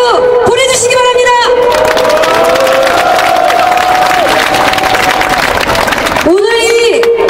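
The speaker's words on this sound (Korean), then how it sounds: "투쟁하는 동지들과 박근혜 정권에게 탄압받는 우리 모든 동지를 향해서 격려의 박수 보내주시기 바랍니다" A large outdoor rally crowd at a general strike breaks into loud, sustained applause and cheering, a dense roar of clapping between bursts of amplified voices at the start and end.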